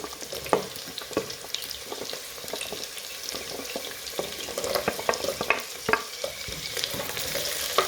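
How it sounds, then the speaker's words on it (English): Carrots and other vegetables cooking in a pot for an amaranth and matooke dish, with a soft continuous sizzle, stirring scrapes and occasional clinks of a utensil, no voices. "Now I'm putting those to cook, plus the carrots, so that they can soften before I bring in other ingredients."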